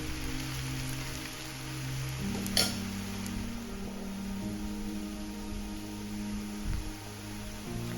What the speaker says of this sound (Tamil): இப்போ மிச்சம் இருக்கிற கிழங்கையும் பொரிச்சு எடுத்துக்கலாம்